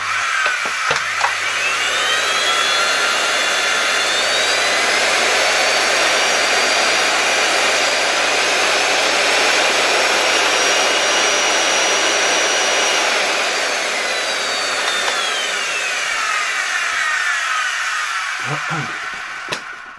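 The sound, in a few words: LG V-3340D vacuum cleaner motor running at reduced voltage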